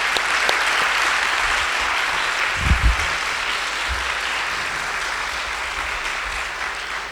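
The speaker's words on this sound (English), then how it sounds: "let's give a big round of applause for Brother Sudhindran." An audience gives a big round of applause, steady dense clapping that carries on without a break, full and moderately loud, close to the listener.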